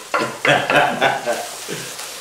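Meat and garlic fry in a hot pan with a steady sizzle while it's stirred, scraping and clattering close up, and brief talk mixed in.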